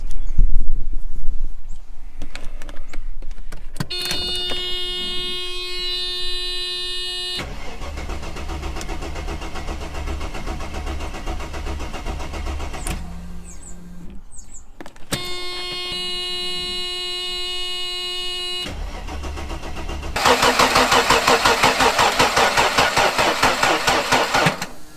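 Mercedes W124 engine cranking in repeated bursts, a strained buzzing starter whir that stops and restarts, ending in a louder rough burst as it catches or nearly catches.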